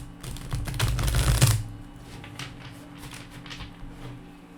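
A tarot card deck is shuffled in one quick riffle, a dense rattling flutter lasting about a second, followed by faint, soft clicks and quiet handling.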